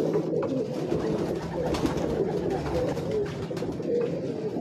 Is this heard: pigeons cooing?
yes